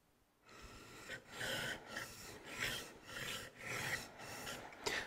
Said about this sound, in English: I'm going to rub that bevel on the stone.